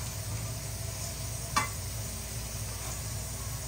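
Chicken pieces for a creamy curry fry quietly in a pan with a soft continuous sizzle, and a single brief scrape or stir lands partway through.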